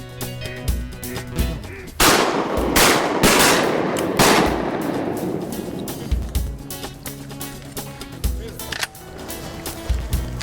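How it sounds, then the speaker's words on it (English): Repeated loud, close shotgun blasts fired with 2 3/4-inch heavy steel No. 3 shot while duck hunting in a swamp, several sharp reports with decaying echoes spread across the span, with quieter gaps between shots. "Now I'm shooting 2 3/4 heavy steel, number 3 shot."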